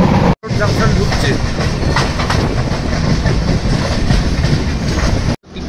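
Dhauli Express superfast train rolling into a junction on the Shalimar to Puri route, a steady loud roar with rhythmic clickety-clack of wheels over rail joints, heard from inside a coach with a brief dropout near each end.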